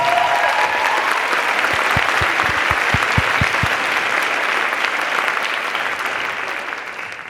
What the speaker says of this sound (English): Can we give everybody who spoke this morning a round of applause